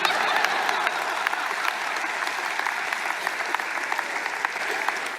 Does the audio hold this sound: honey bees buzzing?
no